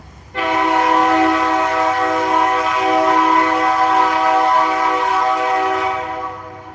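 A noisy freight train sounds a long, loud multi-tone horn blast as it approaches bridges, held steady for several seconds before fading slightly at the end.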